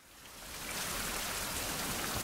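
Steady rain falls in a survival video game, a dense, even hiss of drops on surfaces that swells slightly at the start and then holds constant, with no voices.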